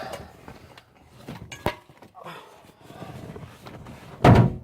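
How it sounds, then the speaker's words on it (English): A loud car door slam on a Datsun 240Z near the end, after softer shuffling and a single sharper knock earlier in the clip. "If I open the door on the other side."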